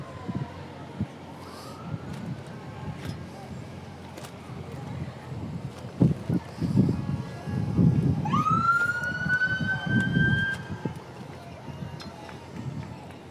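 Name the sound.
siren of Big Lake Fire and Rescue four-wheeler in parade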